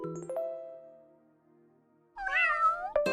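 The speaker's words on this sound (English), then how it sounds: "Kitty Cat is so happy with us now." A cartoonish cat meow in a video game rises and falls near the end, after a few ringing chime tones and a quiet pause, with no talking.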